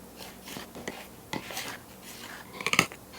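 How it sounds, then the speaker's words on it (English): Keto flour and xanthan gum whisked by hand in a bowl: quiet scraping and light clinks of a metal whisk against the bowl, with a brief cluster of sharper clicks near the end. "I recommend taking a whisk and mixing it first by hand."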